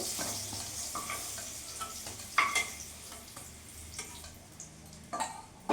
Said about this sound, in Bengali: ওই তেলের মধ্যে এখানে ফোড়ন দিয়ে দিলাম, 5 ফোড়ন আর শুকনো লঙ্কা